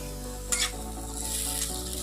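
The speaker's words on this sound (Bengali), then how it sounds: "প্রথমে আলুটাকে একটুখানি ভেজে নেবো হালকা" Small potatoes frying lightly in a pan produce a low, steady sizzle over a constant hum, with a brief scraping stir and a couple of soft clinks.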